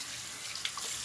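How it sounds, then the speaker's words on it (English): Tap water running steadily into a sink as hands are rinsed, a soft continuous hiss with faint splashes, fairly close. "Add a little bit of water to it because my face felt dry."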